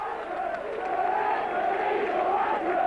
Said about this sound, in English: the crowd just saying what they think about the referee, just voicing their opinion